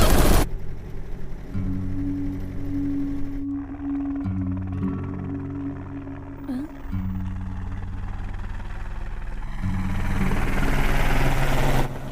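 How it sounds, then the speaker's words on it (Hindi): A helicopter flying overhead in a Hindi-dubbed South Indian action film, a loud droning rotor and engine hum with steady tonal layers that shift and swell toward the end. "वो देखो हेलीकॉप्टर"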